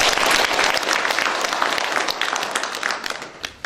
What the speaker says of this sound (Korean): 이의가 없으면 박수로 동의를 표해 주시기 바랍니다